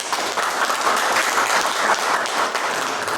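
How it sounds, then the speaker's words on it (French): A crowd at a charity cheque presentation claps, dense steady applause filling the whole moment at close range, with a faint murmur of voices underneath. "Et je crois qu'on va les applaudir fortement"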